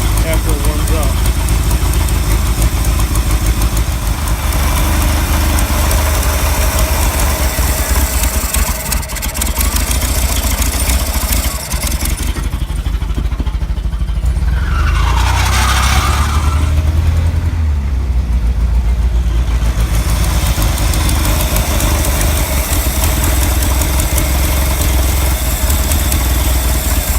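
An OMC 3.0 boat engine idles steadily while warming up, a loud continuous low rumble close by with someone talking over it for much of the time.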